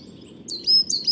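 Small songbird singing high in a pine treetop, a quick pair of thin, high chirping notes over faint low background rumble.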